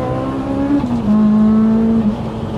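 A Honda Civic Type R EP3 with a 450 bhp Rotrex supercharger revs hard and accelerates close by, its pitch climbing, dipping briefly as it shifts, then holding a loud, strained drone.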